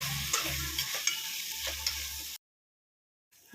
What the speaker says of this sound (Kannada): ಹಸಿ ವಾಸನೆ ಹೋಗೋವರೆಗೂ ಇದನ್ನು ಫ್ರೈ ಮಾಡ್ಕೊಳ್ಬೇಕು